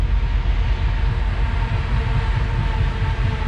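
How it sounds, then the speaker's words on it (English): A train rumbles past close by along a river in Nebraska on a December day, a steady low roar and rattle of rail cars with no voices over it. "There's a train right there."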